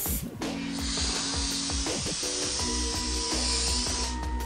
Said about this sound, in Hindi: अब मैं शाइनर स्प्रे करूंगी।